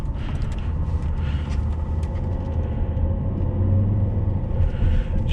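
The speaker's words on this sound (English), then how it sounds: "Just hear that 5-cylinder warble away" A steady, droning warble from the five-cylinder D5 diesel of a 2009 Volvo S80 R-Design Polestar on a cold autumn drive, heard from inside the cabin as continuous low engine hum with road rumble.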